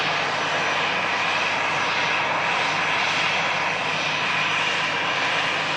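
A departing jet airliner holds a steady, loud engine roar for the whole stretch, a dense unbroken rumble with a faint whine on top and no other sounds breaking through.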